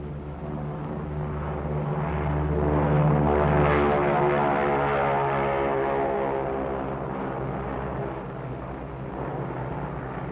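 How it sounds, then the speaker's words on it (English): The B-29 bomber Dave's Dream drones along in flight, its piston propeller engines giving a loud, steady throbbing roar that swells and then settles, with no voices over it. "With her escort of photographic and weather and instrument planes, Dave's Dream proceeds to the Bikini target."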